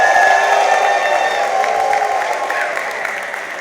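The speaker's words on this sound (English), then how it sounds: "The men here, clap for the women in your life and make noise for them." A comedy show audience claps, cheers and whoops loudly, a broad crowd roar with whistling tones that slowly fades over a few seconds.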